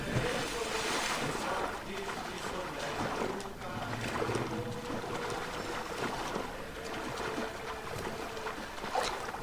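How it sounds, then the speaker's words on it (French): Ocean waves wash and roll in a video game, a steady windy surge of water with soft splashes that swells and eases over several seconds, moderately loud and close. "apprécier le bruit des vagues et tout ça"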